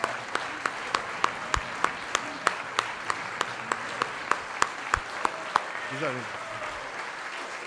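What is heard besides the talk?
audience applauding and cheering honourees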